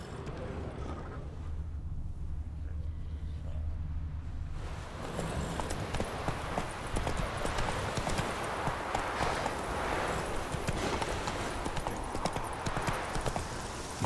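Hooves of the horse Roach clip-clop steadily through Witcher 3 on Death March difficulty, picking up into a quick, continuous galloping rhythm after a quieter opening, close and fairly loud against ambient game sound.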